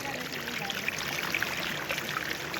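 Glacial meltwater stream in Almaty National Park, Kazakhstan, flowing with a steady, broadband rushing hiss close by, continuous and even throughout with no voices.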